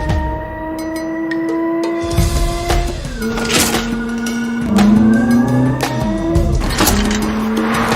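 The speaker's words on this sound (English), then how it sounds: "It's not simply adding artificial sounds to an EV." A Hyundai N electric car produces artificial driving sounds, rising and falling synthetic engine-like tones that sweep and shift pitch as it accelerates, loud and close with no talking.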